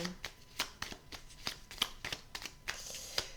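A tarot card deck is shuffled and a card drawn, giving a quick series of crisp, close riffling snaps and taps in an irregular rhythm over quiet background.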